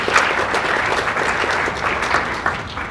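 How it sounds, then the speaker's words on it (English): A room of guests at a women's reception breaks into steady, moderately loud applause for staff, with dense clapping and no talk. "This is, I think, worth another round of applause."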